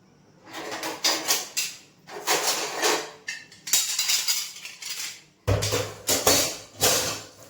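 Piled-up dishes, pots and cutlery being lifted and set down in a home kitchen, bursts of clattering metal and ceramic clinks separated by short pauses, close and fairly loud, one heavier clunk near the end.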